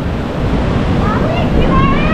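Monsoon waves surge and crash at Anjuna Beach in Goa, a loud, continuous roar of surf with heavy wind noise close to the shore.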